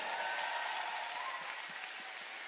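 An audience at an unplugged concert applauds steadily, a dense, even wash of clapping throughout, fairly faint.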